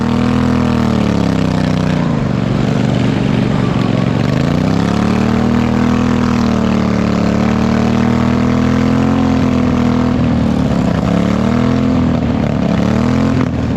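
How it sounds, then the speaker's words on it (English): A racing lawnmower engine at a county fair lawnmower race revs loudly and continuously while the mower stands still after a broken belt. The drone is close and strong, rising and falling in pitch several times. "the sound of the revving engine without the mower moving tells you that we're done for the night"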